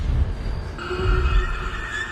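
A horse neighs in The Lord of the Rings: The Two Towers, a shrill, wavering whinny that rises out of a rumbling film soundtrack and holds for over a second.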